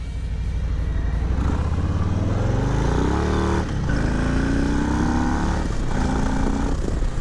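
A 2020 Harley-Davidson Low Rider S V-twin on a test ride rumbles loud and steady up close, its engine note rising and falling through gear changes with a brief dip mid-ride.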